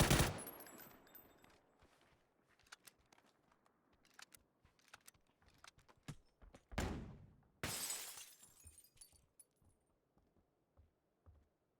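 Gunfire in a PUBG match during a pro esports cast, with loud sharp shots and bursts scattered irregularly, a couple of heavy blasts and several rapid volleys, plus fainter distant pops between them.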